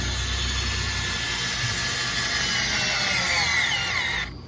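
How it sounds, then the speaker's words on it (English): A power tool tightens the lower hose clamp on the intake boot of an L5P Duramax diesel during a cold-side pipe install, whirring loudly and steadily up close for about four seconds before cutting off abruptly. "We're gonna tighten up the lower clamp on this boot."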